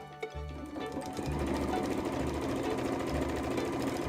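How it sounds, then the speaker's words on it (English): A sewing machine stitches together the quilt cover of a dog bed, running in a steady close whir with a rhythmic low pulsing for about four seconds. "Now it's time to sew the quilt cover all together."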